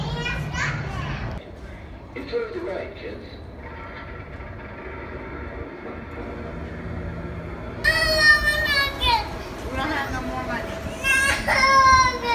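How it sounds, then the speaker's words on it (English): A toddler wails through a meltdown while out shopping at London outlets, with high, rising cries bursting in loudly after a stretch of chatter and background bustle as people talk nearby. "That's a toddler meltdown."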